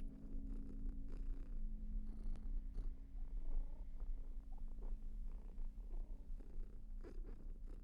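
A cat purring in the indie horror game BrokenLore: Unfollow, a continuous low, rumbling purr that holds steady and close throughout, with faint clicks on top and no talk.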